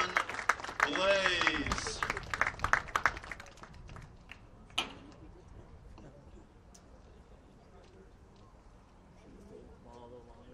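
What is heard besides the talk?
crowd applause at a baseball game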